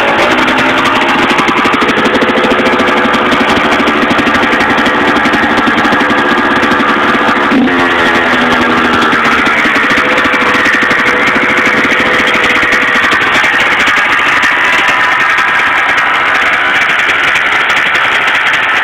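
A 2005 Kawasaki KX85 dirt bike engine, a loud, close, buzzing two-stroke idle that runs throughout, with a brief rev blip near the middle before it settles back to a steady idle.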